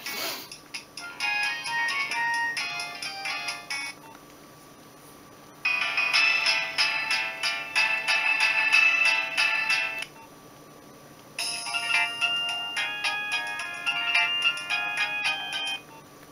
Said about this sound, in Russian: Мелодии прикольные, полифония здесь очень хорошо звучит.